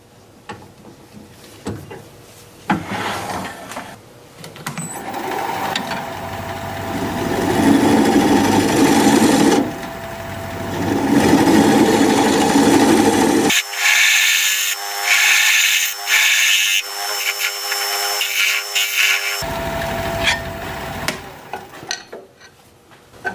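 Wood lathe turning a recess into a wooden bowl, a steady whirring hiss of the cutting tool with broad rushing bursts and a tonal hum, shifting in texture as the cut changes, close and loud with no talk.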